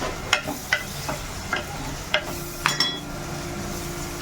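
Egg curry with chopped onions being stirred in a clay pot, a spoon scraping and knocking in a few separate light strokes over a faint steady sizzle, close by with no talk.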